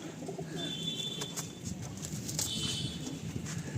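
Madrasi pigeons cooing in a loft, low soft coos repeating steadily through the whole stretch with a faint higher chirp over a constant background hum.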